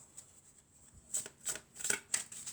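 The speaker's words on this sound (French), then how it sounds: "Alors ensuite, on va prendre quelques cartes de mon oracle." Oracle cards are shuffled by hand in a quiet room. It begins with soft rustling and then turns into several crisp, riffling flutters in a row, close to the listener.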